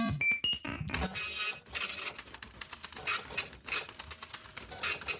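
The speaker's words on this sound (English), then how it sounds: "It's a really loud printer." A loud printer runs alone in a small room, whirring and clattering in rapid mechanical bursts with short pauses between passes, close and harsh.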